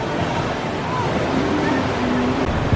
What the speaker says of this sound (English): the waves are bigger. Wind's kicking more.